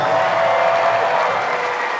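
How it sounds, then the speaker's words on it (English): Steady, loud applause from a packed gymnasium honours the 7th graders at an all-city school band concert, an unbroken clatter of many hands with soft crowd murmur beneath. "Keep your applause going for the 7th graders."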